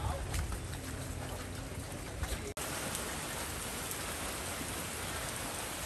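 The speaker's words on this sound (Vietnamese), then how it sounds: "Mưa đang hơi lạnh nha các bạn" Steady rain falling at a fishing pond in Bien Hoa, Dong Nai, a dense even hiss of drops that carries on without a break, with one brief click partway through and no speech.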